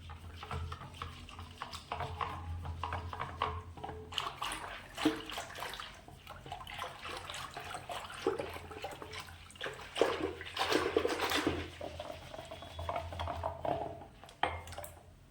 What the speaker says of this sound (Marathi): आता कोथिंबीर टाकून घेऊयात आणि व्यवस्थित आपण मिक्स करूयात